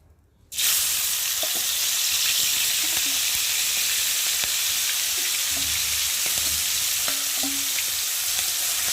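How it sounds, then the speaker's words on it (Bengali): Salted, turmeric-coated shrimp hit hot oil and a loud, steady sizzle starts after a brief quiet moment, with occasional soft scrapes of stirring, close by. "এই যে নুন হলুদ মেখে রাখা চিংড়ি মাছগুলোকে দিয়ে ভালো করে ভেজে নেব"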